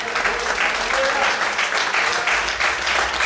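A church congregation applauds together in a dense, steady wash of clapping that fills the room for the whole stretch, loud and close with no talk over it.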